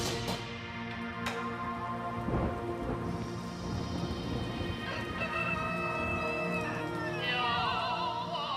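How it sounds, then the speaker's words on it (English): Rain falls steadily on a Miao village, Ma An Chang, in Hunan, with low thunder rumbling underneath. Faint tonal sounds drift over the even downpour. "This morning, it is raining on Ma An Chang, Lang Yin's village."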